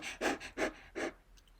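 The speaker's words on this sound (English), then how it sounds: "If your dog is panting, you know that little sound" A dog pants in short, breathy bursts, three or four close rhythmic huffs followed by quieter trailing breaths, with no talking.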